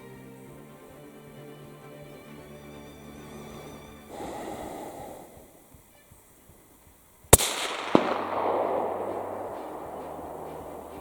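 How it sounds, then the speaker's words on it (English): A single loud rifle shot rings out while hunting black grouse, a sharp crack followed by a brief echoing tail, after a quiet stretch of faint rustling and breathing. "Shot the black grouse."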